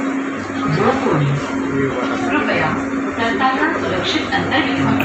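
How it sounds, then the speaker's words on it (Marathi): A Pune metro train picks up speed, its motor hum and rolling rumble building steadily from inside the carriage as someone talks loudly over it. "बघा एकदम स्पीड घेते ही गाडी"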